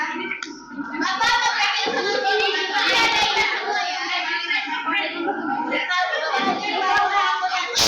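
Applause from a classroom for a student group, a dense spread of many hands clapping filling the room at steady loudness, with children's voices mixed in throughout.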